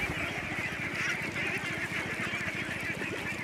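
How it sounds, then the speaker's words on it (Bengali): A large flock of domestic ducks on a farm stretching about a kilometre quacks continuously in a dense, overlapping, rapid chorus, loud and close, with no other sound standing out. "তো শুধু হাঁস আর হাঁস,"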